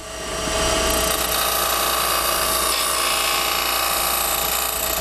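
A skew chisel shaves a bead on spinning wood on a lathe, a loud, steady, close whirring hiss that holds at a constant level from start to finish with no voices.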